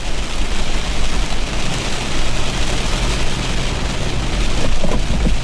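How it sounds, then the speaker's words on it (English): Heavy rain from a hurricane's outer bands pounds steadily and loudly on a vehicle, a dense continuous roar with an idling engine rumbling underneath and no talk. "I'm getting pounded with rain."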